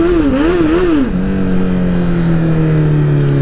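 Motorcycle engine of a 1000RR revving as the rear wheel spins on snow, a loud close whine that wavers up and down, then settles into a steady falling drone.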